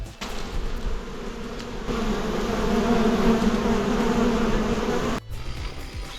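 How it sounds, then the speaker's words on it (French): A dense, steady swarm of bees buzzing close by near hives, loud and continuous, with no voices. The hum drops away abruptly near the end. "Plein d'abeilles."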